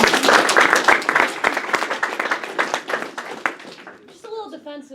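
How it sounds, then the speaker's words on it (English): An audience at an intro day event claps in a loose, crisp burst of applause that thins out after about four seconds, followed by a voice speaking. "Give her a round of applause."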